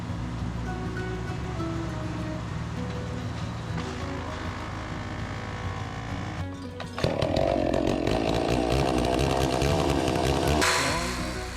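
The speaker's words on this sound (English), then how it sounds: "This is Hap's first cut with a chainsaw ever." Chainsaw cutting wood during a lot cleanup: a steady motor drone rises sharply partway through as the saw bites in, holding a loud, rough whine before easing off near the end.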